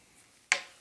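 A cork pulls free from a bottle of 2019 Michter's Barrel Strength Rye whiskey with a single sharp, close pop that trails off quickly after a quiet lead-in.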